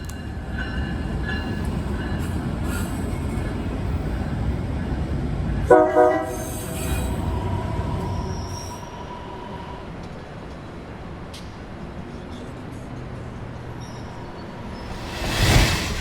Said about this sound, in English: An inbound approaches its stop at Van Buren Street